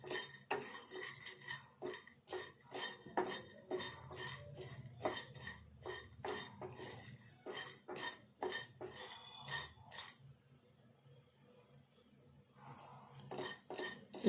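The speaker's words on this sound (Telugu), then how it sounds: "ఫస్ట్ పుట్నాలు వేపుకుందాము దోరగా." Split chickpeas dry-roast in a pan, stirred with a metal utensil, giving a busy run of dry scraping and clinking that stops and leaves quiet pan noise near the end.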